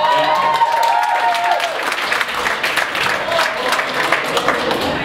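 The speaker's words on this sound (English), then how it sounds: "I'm glad you applauded that" A comedy club audience applauds a stand-up comedian, a dense, loud wash of clapping from a full room that holds steady throughout, with a voice briefly heard over it at the start.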